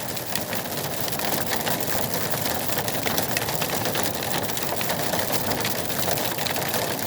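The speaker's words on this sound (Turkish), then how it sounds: "Aşağı yukarı 5-6 dakikadır tolu yağıyor." Heavy rain and hail pour steadily during an outdoor picnic in Izmir, a dense, unbroken hiss of drops striking surfaces close by with no voices.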